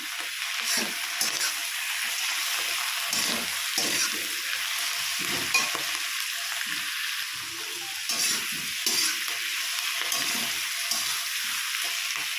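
Green chillies and tomatoes sizzle in a pan while a utensil stirs them, giving a continuous close frying hiss broken by repeated scraping and stirring strokes.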